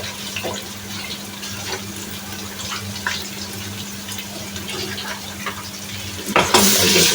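Garlic and ginger hit a hot pan for spinach chicken, sizzling steadily while a utensil stirs and scrapes, with a louder hiss surging near the end.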